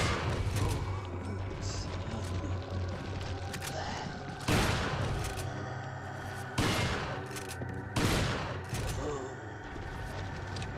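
Gunfire in the Resident Evil 4 video game, with several sharp loud bursts of shots breaking over ongoing game sounds and music while people talk.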